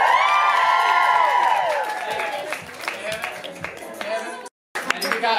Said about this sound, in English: So big round of applause for Mitchell.